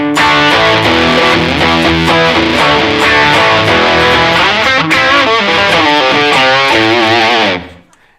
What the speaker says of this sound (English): if I want some distortion, but I don't want to play with the gain, I turn on my tube screamer